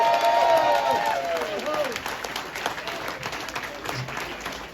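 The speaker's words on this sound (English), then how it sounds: "let's give a nice round of applause again for Big Dave and Cameron" Audience applause and some cheering for Big Dave and Cameron at a fall fishing event, a dense burst that is loudest at the start and tapers slightly over several seconds, with a voice briefly audible early on.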